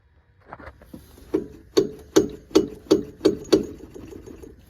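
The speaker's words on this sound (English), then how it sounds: "I lined up my wrench with the pulley, and I hit the end of it with a hammer" Seven or eight sharp metallic strikes in a steady rhythm, each ringing briefly, a hammer hitting the end of a wrench on a power steering pump pulley bolt.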